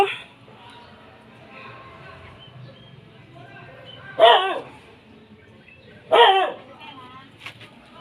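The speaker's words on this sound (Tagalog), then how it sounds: "Oy, nakakatakot naman. May mga aso." Dogs bark twice in short, sharp bursts about two seconds apart, over a quiet background murmur.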